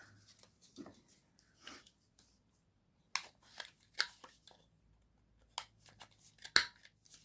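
Scissors snipping through craft pieces at a desk, a scattered series of short, sharp cuts and rustles at close range, fairly quiet, with no speech.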